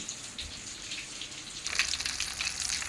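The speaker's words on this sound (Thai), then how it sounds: "ทอดปลานิล ปลาแดดเดียวค่ะ" Sun-dried tilapia fish fries in hot oil, giving a soft, crackling sizzle that grows busier and louder in the second half.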